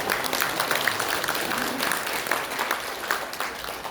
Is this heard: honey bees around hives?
no